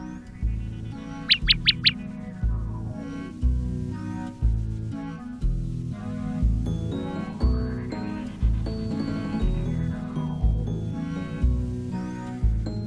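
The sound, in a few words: bird chirping in video game Black Beacon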